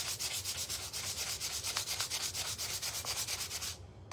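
Scuff-sanding an old hand garden rake before painting, a steady run of rapid back-and-forth abrasive strokes, close and continuous, stopping just before the end.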